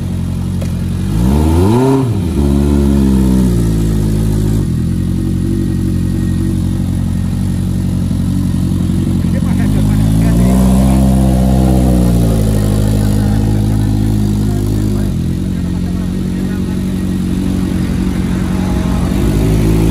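A Honda CB1100R motorcycle engine revs hard as the bike climbs uphill, loud and close, with rising and falling pitch sweeps over a steady, throaty drone throughout.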